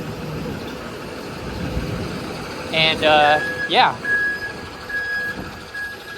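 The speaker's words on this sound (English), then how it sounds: "you definitely are hearing the trucks here to my right" Trucks in a busy New York City street in the Financial District, with a reversing beep sounding a few times over loud, steady traffic rumble while someone talks.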